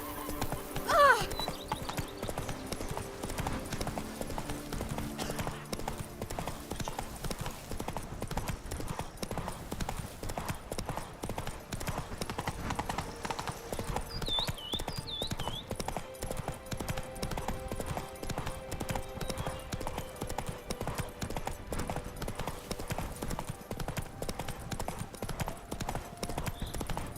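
Horse hooves galloping in The Witcher 3: Blood and Wine, a steady, rapid clip-clop rhythm running throughout with a whinny near the start, alongside game ambience and occasional faint voices.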